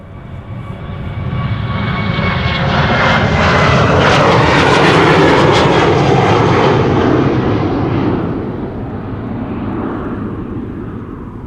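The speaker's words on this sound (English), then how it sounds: "another KLM 737 taking off over here," A KLM Boeing 737 takes off at Schiphol Airport, its engine roar swelling loudly to a peak midway, then slowly receding into the distance.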